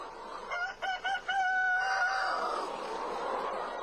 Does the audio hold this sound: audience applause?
no